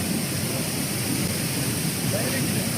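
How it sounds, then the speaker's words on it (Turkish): Strong floodwater rushes past where a flood has carried trees across a road and brought down bridges, a loud, steady roar of broadband turbulence close by, with no pause or change. "Suyun akıntısı çok şiddetli."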